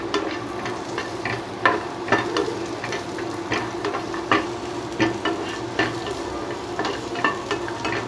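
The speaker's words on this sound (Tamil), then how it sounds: "எல்லாத்தையும் சேர்த்து நல்லா வதக்கிக்கோங்க." Nuts and carrots sizzle in a hot pan while a spoon stirs them, giving a steady frying hiss broken by regular scraping strokes roughly every half second, close and moderately loud, with no talking.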